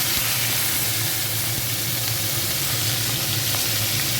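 Very hot oil sizzling in a pan before prawns and chilies go in, a dense, even hiss with faint crackles throughout, close and steady with no speech.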